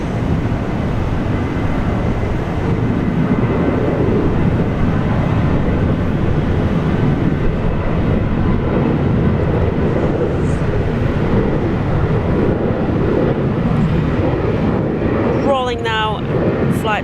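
A Qantas heavy airliner takes off at Brisbane Airport, a broad steady engine roar running throughout, with a voice briefly heard near the end.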